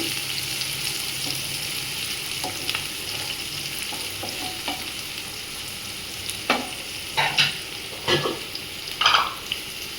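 Onions with green chilies sizzle in oil as they brown for a chicken fry. A continuous close hiss runs throughout, punctuated by clustered clinks and scrapes of stirring toward the end, with no voices.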